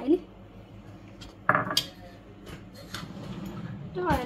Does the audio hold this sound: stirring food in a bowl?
yes